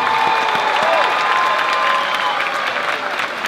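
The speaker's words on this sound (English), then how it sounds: "give them all a round of applause for doing anything." A packed Apollo Theater crowd claps loudly and steadily at an amateur-night style performance round, with cheering and faint tonal sounds mixed into the dense, sustained applause.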